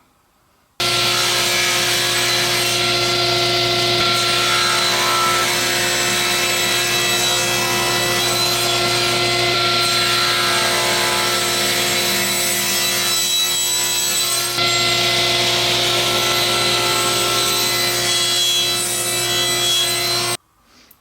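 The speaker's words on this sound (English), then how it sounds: "I'm going to mill it down on the table saw to a size of 3/4 inches thick" A table saw mills a maple board down toward 3/4-inch thickness, a loud steady whine with a constant motor hum running unbroken for about twenty seconds before cutting off.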